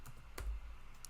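A few quick keystrokes on a computer keyboard, soft clicks with one sharper tap near the middle, close and quiet with no talking.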